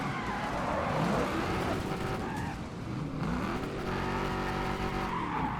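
Car in the Wreckfest 2 racing game sliding sideways, engine note rising and falling through revs with tire skidding noise over a steady road rumble, continuous and fairly close.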